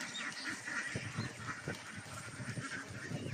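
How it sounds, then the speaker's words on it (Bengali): A flock of village ducks quacking repeatedly in an open field, overlapping calls at moderate distance against a faint outdoor background. "এই দেখুন কত হাঁস আমাদের গ্রামের লোকজন হাঁস ফেলেছে"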